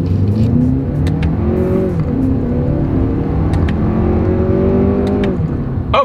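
A 2024 Lexus RX 350 accelerates hard in manual mode, the engine climbing in pitch, dropping at each paddle shift and rising again, loud and close from inside the cabin.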